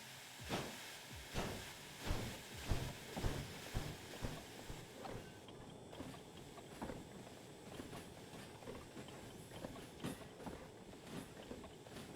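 Diesel hydraulic locomotive shunting wagons in the railway game Derail Valley: rhythmic clickety-clack of wheels over rail joints early on, then a steadier rumbling roll with faint hiss, moderately distant.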